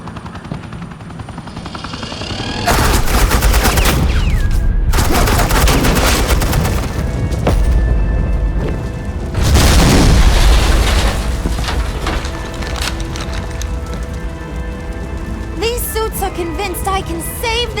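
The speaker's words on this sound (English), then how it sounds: "suppressing fire" Video game gunfire in Batman: The Enemy Within, a loud, dense fusillade of rapid automatic shots in sustained bursts with brief gaps, layered over a heavy rumbling backdrop.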